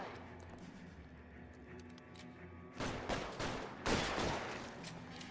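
Gunshots in a detective video game ring out after a stretch of quiet ambience, a few sharp cracks in close succession near the end.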